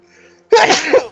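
A single sharp sneeze bursts out close to the microphone after a moment of quiet.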